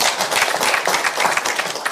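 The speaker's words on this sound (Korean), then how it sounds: "다시 한번 박수 보내드리겠습니다" Audience applause for three college presidents at a Korean junior college summit, a dense, loud burst of clapping that carries on without a break.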